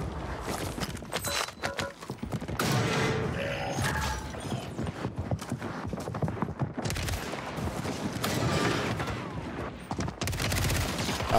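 Bursts of rapid gunfire from a new weapon in the video game Call of Duty Warzone on Rebirth Island, with mechanical handling clicks and footsteps between shots, the firing loud and close in repeated volleys.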